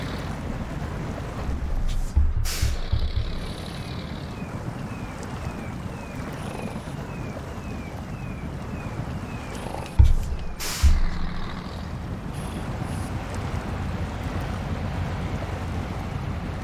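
A truck in the video game SnowRunner labours up a slope, its engine droning low and steady, broken by a few sharp hissing air-brake bursts, with wind noise over the top.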